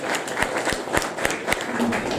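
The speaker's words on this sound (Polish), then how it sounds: "Naprawdę wielkie brawa dla Ahmeda." Applause from a crowd at a city council session in Mińsk Mazowiecki honoring team captain Ahmed, steady clapping with sharp individual claps standing out, fairly close and moderately loud.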